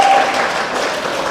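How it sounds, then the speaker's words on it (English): A classroom audience briefly applauds the negative side of a debate, a short burst of clapping that is loud at first and tapers slightly. "So now please give applause for the negative side."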